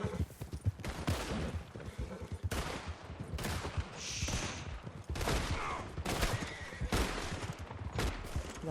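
A slow-firing gun in Red Dead Redemption 2 Online lets off a long run of sharp shots at an uneven, unhurried pace, close and loud, with horse clip-clop and faint background voices beneath.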